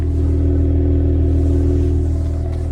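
Engine of a 2025 Cadillac CT5-V running through its quad-tip exhaust, a steady loud low rumble held at a constant pitch throughout, close to the tailpipes with no voices.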